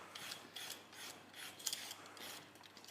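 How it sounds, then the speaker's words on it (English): A carrot being peeled with a peeler gives repeated short rasping scrapes in quick strokes, close and fairly quiet. "she can't hear me peeling a carrot"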